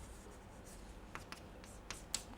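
A pen scratches out an equation for a binary mixture during a chemistry lecture, with several faint, close strokes and taps spaced irregularly over a quiet room hiss.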